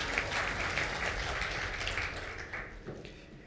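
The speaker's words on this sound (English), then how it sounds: "let's give them a round of applause" Applause from the audience at a Zimbabwe debt arrears side meeting, a steady wash of clapping that continues moderately loud and slowly thins toward the end, with no voices over it.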